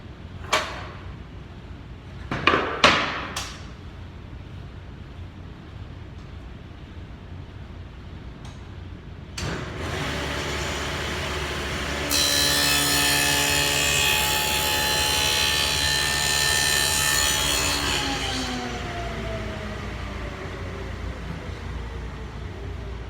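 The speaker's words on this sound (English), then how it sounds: "So I have a dadoe blade, a dadoe cut, that's right to my lines here." A table saw fitted with a dado blade cuts a groove through wood: a few sharp knocks first, then the motor spins up, a loud whining cut rises for several seconds, and the blade winds down afterward.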